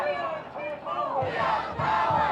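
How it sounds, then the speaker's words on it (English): A crowd of protesters chanting in unison at a No Kings protest in Dallas, loud rhythmic shouted phrases rising and falling, nearby and outdoors. "You heard chants."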